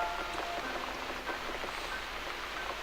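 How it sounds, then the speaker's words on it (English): Steady rain falls in The Cat Lady video game, a continuous soft hiss of drops pattering on a surface with no talk over it. "Looks like we got the rain back."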